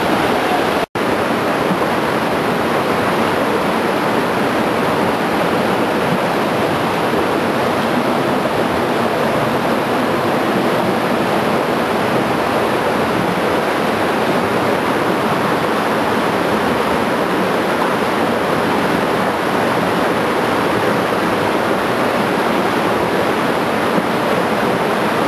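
Water rushes steadily through the narrow rock walls of the Crivadia gorge, a loud, continuous roar that stays unbroken and even throughout, with no voices over it.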